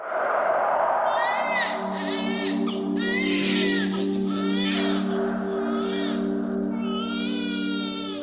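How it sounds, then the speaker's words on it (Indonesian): A newborn baby cries continuously inside a house, a loud, near wail in rising and falling bursts over a steady low electrical hum. "Terdengar suara tangisan bayi dari dalam rumah."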